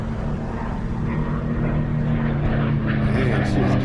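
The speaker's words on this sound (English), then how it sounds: "Civilian planes just land right in the middle of an air show" A civilian propeller plane landing during an air show in McMinnville gives a steady, loud engine drone, with voices talking over it.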